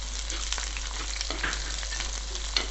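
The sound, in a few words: green chilies added to hot oil, sizzling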